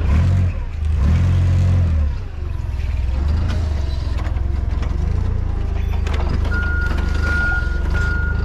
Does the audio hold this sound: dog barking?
no